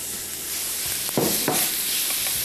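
Beef and onions fry in a pan with a steady, fairly loud sizzle, broken by a few sharp clanks of stirring. No one speaks.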